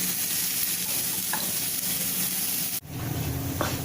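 Cashew and paneer samosa stuffing with fresh coriander is stirred in a hot pan, giving a dense continuous sizzle and hiss with soft scraping, close, cutting off sharply near the end before the frying resumes.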